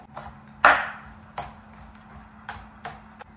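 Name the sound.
chopping green onions with a knife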